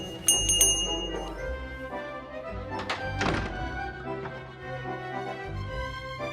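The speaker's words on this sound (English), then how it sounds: "The nice thing about the bell, Bill can't ignore me." A bell rung in the fantasy adventure video game The Book of Unwritten Tales 2, giving several bright metallic dings and knocks over a low steady background score, moderately quiet and with no voices.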